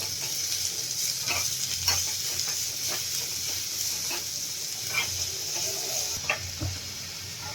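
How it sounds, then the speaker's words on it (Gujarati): Onions for aloo paratha sauté gently in a pan over low heat, giving a soft continuous sizzle with a few light stirring scrapes and taps, up close and with no talk. "ધીમા તાપે આપણે આને 2 થી 3 મિનિટ માટે ખાલી રોસ્ટ કરી લેશું, જેથી આપણા પરોઠામાં કાચો ટેસ્ટ ન આવે ડુંગળીનો"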